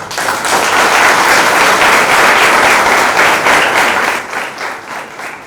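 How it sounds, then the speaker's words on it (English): A loud round of applause fills a room at a Mumbai college plantation-drive event with actor Dia Mirza and cyclist Roopesh Rai. The thick, sustained clapping stays near and strong before tapering off toward the end. "I think that deserves a very loud round of applause"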